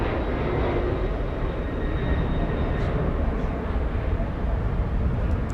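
A jet airliner taxis at JFK airport, heard as a steady broad engine roar with a faint high whine, continuous and moderately distant, with no voices over it.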